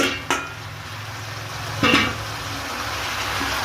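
Vegetables, including cauliflower, sauté with turmeric and salt in a pan, giving a steady soft sizzle broken by two sharp stirring clatters of a spoon against the pan, with no one talking.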